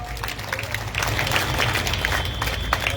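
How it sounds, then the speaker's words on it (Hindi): A crowd at an outdoor political rally in Una claps steadily for several seconds, a dense close wash of applause without speech. "एक बार ताली राम कुमार इसके लिए जोर की लगाओ।"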